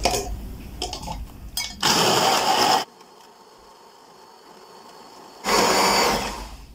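A kitchen blender whirs in two loud, steady bursts while mixing a homemade carob drink with milk. Light clattering and handling noises come before the first burst, and a quieter pause separates the two runs.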